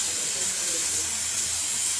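A pressure cooker whistle vents steam while sambar cooks, giving a continuous loud hiss that stays steady throughout.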